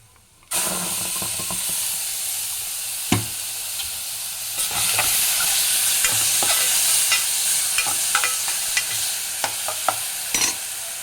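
Loud, continuous sizzling of spices and ground tomato frying in a hot pan, with a spoon scraping and stirring at irregular intervals, close up and without talk.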